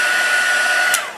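Heat tool whirring steadily while heat-setting embossing powder on a card, a constant close blowing hiss with a fixed whine that fades as it switches off near the end.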